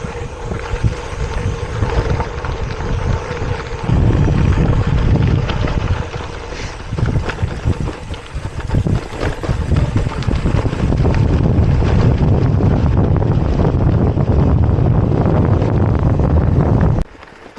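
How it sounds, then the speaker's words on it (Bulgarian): Strong, cold gusting wind in Iceland roars and buffets the microphone throughout, with a rushing, rumbling texture and brief dips in loudness. "И студен вятър"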